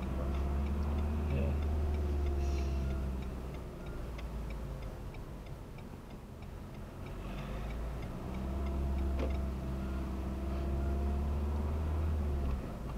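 A car's turn signal indicator ticks steadily and evenly inside the cabin over a low engine rumble, close and moderately loud.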